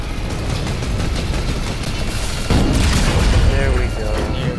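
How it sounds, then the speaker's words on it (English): A minigun fires in Fortnite, producing a dense continuous roar of rapid shots that stays loud throughout and swells in its second half, with a player's voice mixed in. "Okay, minigun."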